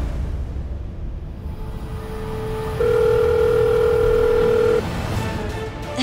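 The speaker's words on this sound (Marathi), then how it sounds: "थांबा, मी फोन लावते." A telephone is dialed in a Marathi TV serial scene: a faint high tone sits over a low rumble, then a steady, loud electronic tone holds for about two seconds before cutting off, with no speech.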